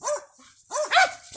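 Dogs barking outdoors at night, close and loud, with a couple of sharp barks and a whining bark in quick succession.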